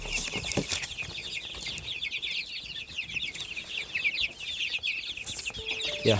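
Many month-old chicks peep in a dense high chatter while chickens cluck nearby, with occasional wing flaps; no talking.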